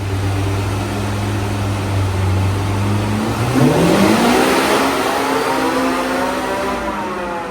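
A turbocharged car engine idles on a dyno, then climbs into a long, loud rising rev through the stock exhaust with a whining turbo whir, holding high and steady under load.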